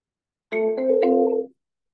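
An outgoing phone call rings during a cold call to a real estate seller: a single electronic ring of about one second, made of steady layered tones, heard clearly with no talk over it.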